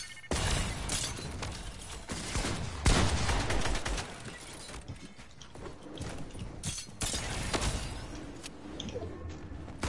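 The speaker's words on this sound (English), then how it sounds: "I just got sniped at" Loud, dense Fortnite gunfire from an Arena Solos match, with sharp shot cracks and impacts layered over constant game noise and music, including a heavy crack near the three-second mark, with no clear talk.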